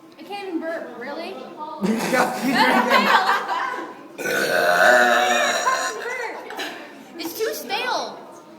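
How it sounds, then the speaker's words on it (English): Two long, loud, drawn-out burps, with chuckling and laughter around them. "But I actually do have a very manly burp"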